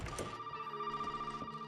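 A telephone rings in the Resident Evil 7 video game, an electronic bell-like trill with a steady high tone and rhythmic pulsing, heard alone and fairly clear for its short length.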